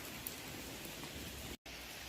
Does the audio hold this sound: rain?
yes